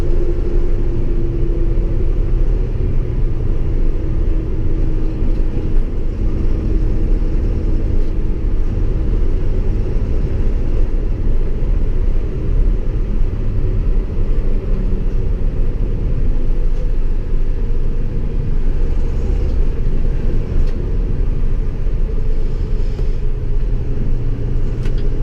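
A Cummins-powered International Durastar truck climbs a hill, a steady loud diesel rumble and road drone with a constant low hum, close inside the cab and continuous with no talk.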